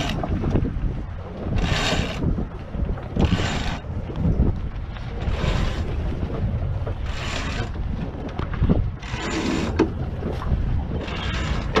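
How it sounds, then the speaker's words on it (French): A genoa sail is hoisted and unfurled on an Oceanis 40 sailboat, with repeated rhythmic bursts of winch and line noise over steady wind rush. "Pierre, il va hisser tout seul le génois."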